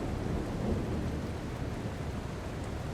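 Steady heavy rain in the video game The Alters, a dense continuous roar with low rumbling underneath that suggests thunder, holding constant loudness throughout with no voices.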